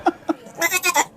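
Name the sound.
baby goat bleating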